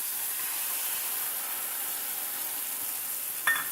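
Poppy seed and white sesame paste hitting a pan of fried onions gives a soft, steady sizzling hiss throughout, with a brief, slightly louder spatter near the end.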